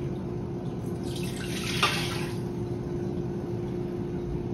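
Chicken broth poured into an Instant Pot as a single brief splashing pour, swelling near the middle and fading out over a steady background hum.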